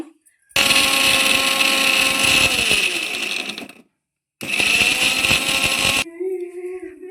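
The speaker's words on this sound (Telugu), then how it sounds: "ఫస్ట్ మనం మిక్సీ జార్లో వేసుకొని ఫస్ట్ మిక్సీ చేసుకోవాలండి" Mixer grinder whirring loudly as it blends tomato, green chilies and onions in a jar for a protein curry, two long bursts of a few seconds each separated by a short pause, ending with a faint clatter.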